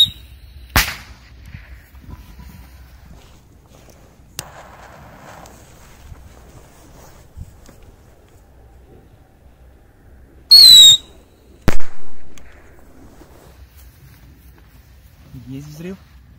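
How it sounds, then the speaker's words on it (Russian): Pyrotechnic rockets, including a whistling one, are set off outdoors. Scattered faint pops lead to a loud rising whistle, then a sharp bang and a trailing burst, all separated by long quiet stretches. "Так, остались у нас ракетки. Вот таких две. Давайте их запустим."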